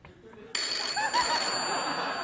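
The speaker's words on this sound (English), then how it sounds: "phones ring." A telephone starts ringing abruptly after a quiet moment, a bright, steady electronic trill that holds at a constant level, moderately loud, with no speech over it.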